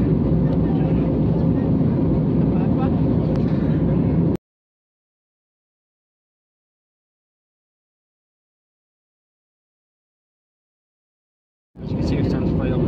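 Broadband cabin roar of an EasyJet passenger airplane in flight, loud and close, cutting off abruptly and then returning after a long silent gap.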